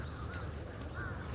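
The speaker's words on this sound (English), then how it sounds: "there's always a lot of crows around here" Crows cawing on a Tokyo street, a few short harsh caws spread over a moment against faint city background hum.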